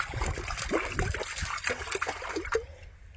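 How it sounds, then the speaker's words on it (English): Soapy water sloshing and trickling in a tub as suds are splashed around to wash a horse blanket, a continuous close wet churning with small gurgles, no talk. "I'm kind of like splashing the suds around"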